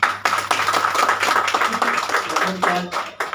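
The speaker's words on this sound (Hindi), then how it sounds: "इनके लिए एक जोरदार ताली हो जाना चाहिए।" An audience at a DXN business gathering breaks into hearty clapping, a dense patter of many hands that thins out toward the end, with a voice speaking over part of it.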